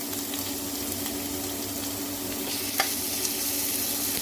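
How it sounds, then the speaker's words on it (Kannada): Garlic, onion, curry leaves and dried red chillies fry in hot oil with a continuous close sizzle, punctuated by a few sharp clicks of stirring in the pan. "ಕರಿಬೇವಿನ ಸೊಪ್ಪು ಮತ್ತು ಒಣಮೆಣಸಿನ್ಕಾಯಿ ಇಷ್ಟನ್ನು ಚೆನ್ನಾಗಿ ಫ್ರೈ ಮಾಡ್ಕೋಬೇಕು"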